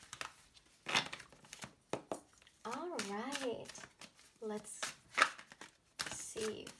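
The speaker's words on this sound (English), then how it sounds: "One last shuffle." Tarot cards being shuffled in quick papery bursts of riffling and sliding, broken up by a person speaking between them.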